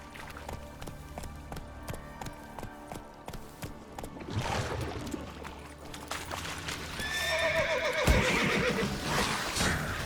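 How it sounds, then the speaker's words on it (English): Roach, a horse in the video game The Witcher 3, whinnies and snorts over steady clip-clopping hooves, with the neighing growing louder and closer toward the end over a busy in-game background. "Whoa there, Roach."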